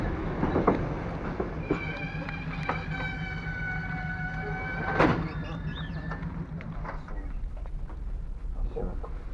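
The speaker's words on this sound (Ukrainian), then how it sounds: "І ось приїхав наш потяг" A passenger train arrives in the Carpathian mountains with a rumble and screeching, tonal brake squeal, and clicks and clanks as it slows to a stop.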